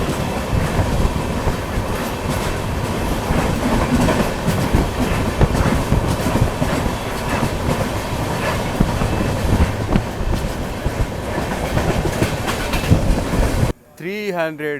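A superfast express train from Chennai Central to Bhagat Ki Kothi rumbles past close by with continuous rattling and rhythmic clatter of wheels on rails, loud and steady until it cuts off near the end.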